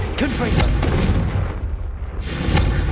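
Confringo fire spell blasts in Hogwarts Legacy on PS5, repeated booming impacts with rumbling fiery bursts, easing briefly in the middle before another loud burst near the end.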